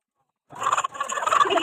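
Flu-stricken chickens cluck and squawk in agitated bursts as they are caught to be given medicine. A moment of silence is followed by a close, loud run of harsh, rapid calls.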